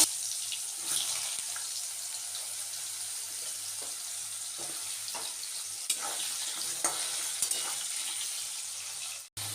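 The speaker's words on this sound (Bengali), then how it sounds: "এখন আমি আলুগুলোকে ভেজে নেব" Potatoes frying in hot oil in a pan for an aloo paneer curry, a steady close crackling sizzle throughout with a few small clicks, and a brief sharp knock near the end.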